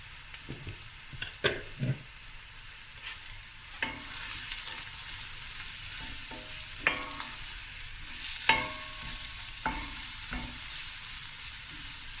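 Masala spices sizzle steadily in a hot pan for a lamb shank akhni, with repeated scraping stirs of a spoon cutting through the constant frying hiss, close and fairly quiet, with no talking.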